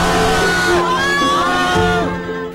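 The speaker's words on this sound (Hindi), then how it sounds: "मंदिर से दर्शन कर जब मोदी बाहर निकले तो शियान की सड़कों पर भीड़ उमड़ आई थी।" A large crowd packs the streets of Xi'an, China, greeting a visiting Indian prime minister outside a temple, with loud overlapping shouts, whoops and cheers rising and falling close by.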